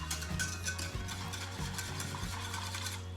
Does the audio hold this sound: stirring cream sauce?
yes